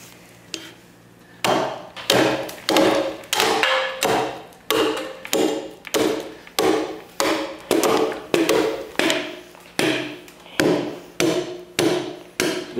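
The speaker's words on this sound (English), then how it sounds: "I'm going to take diagonal chops because of the nature of that grain, and hopefully I can knock some of that edge off" An axe makes diagonal chops into a log to knock off the edge and round it while carving a cradle. About fifteen sharp, loud woody thunks land in a steady rhythm, each with a short decay, and no one talks.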